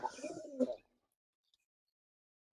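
A single short, throaty coo comes from a very large breeder pigeon of a Pakistani line, heard up close and followed by near silence.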